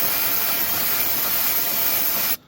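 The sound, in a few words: spraying brake cleaner aerosol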